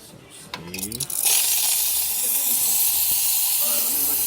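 Steam wand of a Quick Mill Verano 2B espresso machine, tested after servicing, gives a loud, steady broadband hiss that bursts on after a brief gurgle and keeps going close by with no break.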